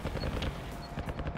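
Distant automatic gunfire crackles in rapid bursts during a multiplayer shooter match, sounding muffled and far off across a steady background of game ambience.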